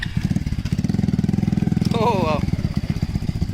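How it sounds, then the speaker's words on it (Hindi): A three-wheeled motorcycle rides along with a steady, close engine drone running throughout, while people talk over it and a brief exclamation is heard. "सो गाइस, ये चल रही है हमारी बाइक, 3 टायर वाली बाइक।"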